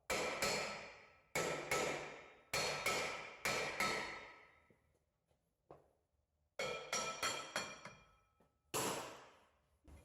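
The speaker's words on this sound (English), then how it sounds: "A few gentle taps." Gentle hammer taps on the rusted rear hub of a 2012 Jeep Patriot during a wheel bearing change, ringing metallic strikes in pairs and clusters with short ringing decay, close and clear with pauses between groups.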